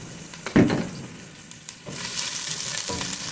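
Ginger pieces hitting hot olive oil in a pan give a sharp burst of sizzling, then a steady, close frying crackle that settles into a continuous hiss with a few brief spikes.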